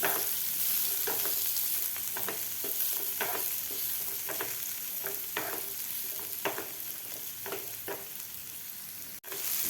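Sliced onions sautéing in a pan while being stirred until pinkish, a steady sizzle with repeated scraping strokes of a spoon every second or so, close and fairly loud, no talking.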